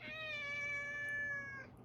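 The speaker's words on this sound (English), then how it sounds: "Ignore the chorus from my kitty friend over here." A cat lets out one long, drawn-out meow that holds steady for well over a second before trailing off, close and clear with no talking.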